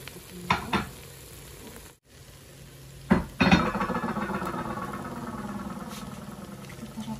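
Arab-style fried rice is stir-fried in a pan with pre-fried vegetables laid on top, a steady sizzle interrupted by a brief pause, then sharp clatters of the spatula followed by louder, sustained frying.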